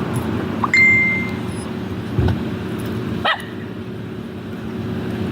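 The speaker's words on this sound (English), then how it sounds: "Got all the dogs out, Karen?" Dogs bark a few separate times, at moderate distance, during a sheriff's traffic stop, with a steady low engine hum underneath.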